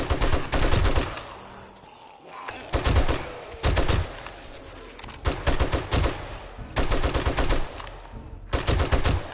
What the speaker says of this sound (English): Look, you ran into my bullets!